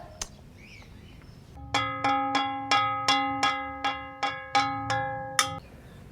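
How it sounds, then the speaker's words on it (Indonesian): Metal frying pan struck by a street fried-snack vendor, about nine bright ringing clangs in a steady rhythm, each ringing with sustained overtones, close and fairly loud over faint background noise. "Ini bunyi penggorengan."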